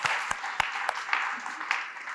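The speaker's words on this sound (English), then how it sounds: "Let's make a round of applause for everybody that made this day happen" An audience at an employment summit gives a round of applause, a steady wash of many hands clapping together throughout the short stretch, with a few sharper accents standing out.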